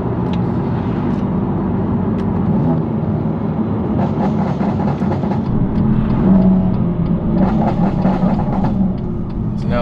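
A rebuilt BMW M2 Competition cruises in sport mode, its engine humming steadily with a low road roar and faint whir, and a few brief clicks and rattles around it.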